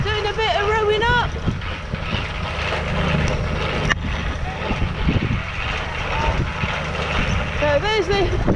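A tractor with a New Holland baler works a hay field, a continuous engine drone under steady wind noise on the microphone, with a few brief warbling tones on top.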